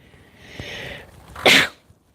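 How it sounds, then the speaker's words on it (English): A single sharp sneeze bursts out loudly near the microphone indoors by an open window, preceded by a soft breathy intake and followed by quiet. "I might have to sneeze, which might be annoying to listen to"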